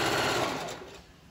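Sewing machine stitching trim onto a slingshot thong, a fast steady run of needle strokes that slows and fades near the end of the short burst, heard alone.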